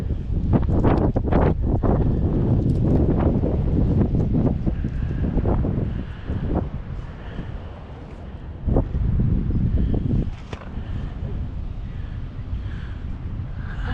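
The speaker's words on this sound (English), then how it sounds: "Very windy, cold day today." Strong wind buffets the microphone on a cold day outdoors during metal detecting, a loud continuous low rumble with gusts that swell and ease throughout.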